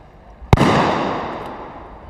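A single sharp gunshot crack from a sniper rifle at a SWAT team competition, loud and close, followed by a long echoing decay that fades over about two seconds.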